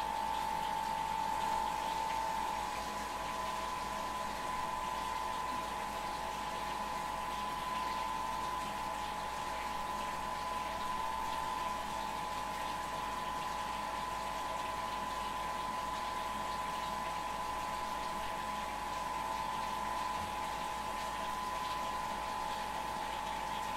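A pump recirculates wort during a beer-brewing sparge, running as a steady, even hum with a liquid hiss that holds unchanged throughout.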